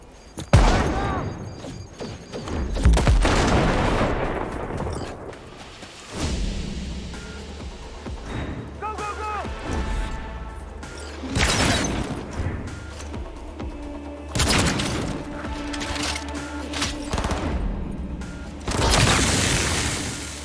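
Gunfire bursts from the video game Cyberpunk 2077 on hard difficulty, with loud repeated shots and heavy booms crashing through a dense, chaotic firefight that swells and fades in waves.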